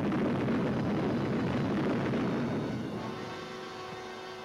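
A broad, heavy rumble from the first atomic bomb test explosion on July 16, 1945, a dense roar sustained for a few seconds before slowly thinning and fading.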